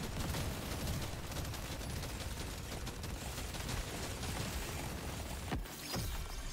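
Minigun in the game Deep Rock Galactic Survivor firing continuously, a dense, steady rattling barrage with chaotic impact noise throughout and no speech.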